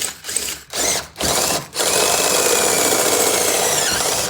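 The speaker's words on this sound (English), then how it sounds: "all right, let's drill, I guess. Metal." Power drill boring into a metal panel on a 2019 twin-turbo Mustang GT: a few short bursts of whirring, then a sustained loud grinding drill run, close up with no talking.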